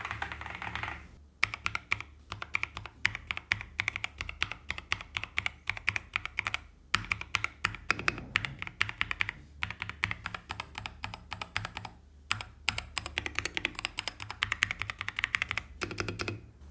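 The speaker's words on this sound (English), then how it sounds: "I'm able to type quite accurately on this keyboard" Rapid clicky keystrokes on a Kiiboom Jade 75 mechanical keyboard clatter in bursts with short pauses, close and fairly quiet, no voices.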